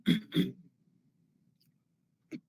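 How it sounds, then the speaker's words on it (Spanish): Two quick, close coughs in succession, followed by a pause and then a single shorter cough. "ya me llegó la hora de la tos"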